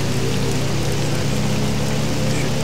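Rain in the flight simulator IL-2 Sturmovik 1946, a dense, loud, unbroken hiss of falling water with a low rumble underneath, steady and close for its whole length.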